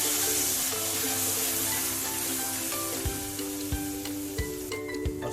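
Ground tomatoes stirred into already-fried onions in a hot pan, a steady close sizzle with a few soft scraping knocks from the spoon near the end.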